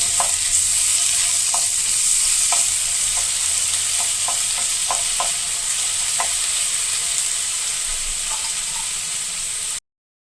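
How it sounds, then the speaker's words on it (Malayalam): Ginger garlic paste frying in hot butter, a bright, steady sizzle and hiss held close throughout, punctuated by light spoon taps against the pan, then cutting off abruptly, with no voices. "ബട്ടർ ചൂടായ ഇതിലേക്ക് ഒരു സ്പൂൺ ഇഞ്ചി വെളുത്തുള്ളി പേസ്റ്റ്"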